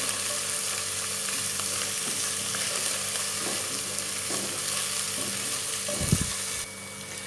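Mint and coriander sauté in a pan for chicken biryani, giving a steady, close sizzle with faint stirring scrapes and one brief knock near the end, with no talking.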